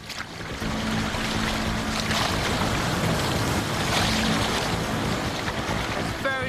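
Choppy water sloshes and splashes around a small raft being paddled under a constant rush of wind buffeting the microphone, with irregular bursts of splashing.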